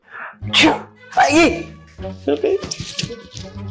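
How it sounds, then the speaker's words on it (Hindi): A sneeze in the middle of a Hindi TV drama scene, breaking up spoken dialogue with a short, sharp burst. Voices talk before and after it. "ये छींक की आवाज किसकी है?"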